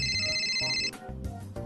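A mobile phone ringtone plays a bright repeating electronic melody, near and clear, then cuts off with brief noise.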